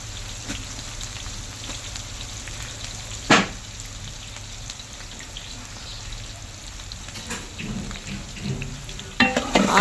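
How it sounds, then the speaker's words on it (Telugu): Onions frying in hot oil with fenugreek leaves and curry leaves, a steady loud sizzle throughout with a few sharp spatters and stirring clatters, no talk. "ఆనియన్స్ తిప్పుకోవాలి. ఆనియన్స్ బాగా ఫ్రై అవ్వాలి."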